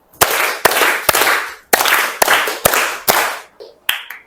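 A class claps in unison to a chant, sharp group claps in a clear rhythmic pattern with short pauses between bursts, loud and close, in a classroom art lesson.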